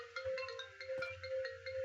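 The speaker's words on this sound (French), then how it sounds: "Là, mon portable, vous allez entendre." A mobile phone rings on its own with a steady repeating ringtone melody, clear and moderately loud against a faint low background hum, with no talk over it.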